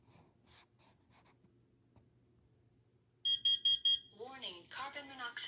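Kidde smoke and carbon monoxide alarms on a test board give a quick run of loud, shrill beeps, with fainter rustling before them and a synthetic voice warning afterwards.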